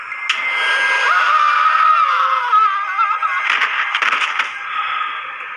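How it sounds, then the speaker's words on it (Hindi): Two men scream in a forest as a horror-story effect: long, loud, wavering cries that overlap for several seconds, then break into harsh, gasping bursts near the end. "कुछ ही देर में उन दोनों की चीखों से पूरा जंगल दहल उठा।"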